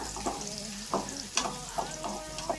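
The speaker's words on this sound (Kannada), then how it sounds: "ಈರುಳ್ಳಿ ಸ್ವಲ್ಪ ಫ್ರೈ ಮಾಡ್ಕೊಂಡ್ಬಿಡೋಣ" Chopped onions frying in hot oil in a pan for a vegetable curry give a steady, close crackling sizzle, broken by several short scraping strokes from stirring, with no speech.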